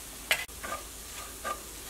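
Chili and coriander powder frying over low heat in a pan, with soft sizzling and a few quick stirring scrapes, close and fairly quiet with no voices.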